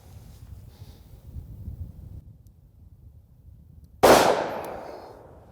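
One loud, sharp gunshot from a small revolver with Federal 140 grain .357 Magnum hollow point ammunition cracks close by outdoors and rings out in a quick decaying tail, preceded by quiet breezy background.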